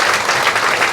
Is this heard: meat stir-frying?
no